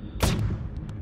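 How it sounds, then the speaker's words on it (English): A missile launched at an enemy ship's shields in the space strategy game FTL makes a single loud, booming shot that quickly fades. Faint electronic beeps follow it. "I'm going to throw in a single missile as well. Just to damage their shields as best as I can."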